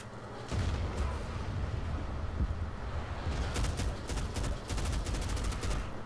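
Rapid bursts of automatic gunfire from the 2010 Medal of Honor video game, starting in the second half as sharp, closely spaced cracks over a steady, loud battlefield rumble.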